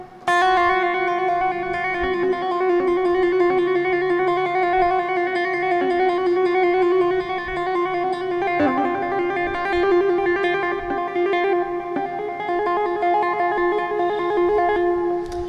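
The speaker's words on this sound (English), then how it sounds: "the third exercise that I do is a series of hammer-ons and pull-offs" Electric guitar played through an effects unit with light distortion, running a beginner hammer-on and pull-off exercise: a steady, sustained stream of legato notes, loud and continuous throughout with no talking.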